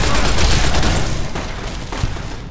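Gunfire rattles in a Nevada desert setting as a loud, rapid volley of overlapping shots that thins slightly toward the end, with a voice faintly under it.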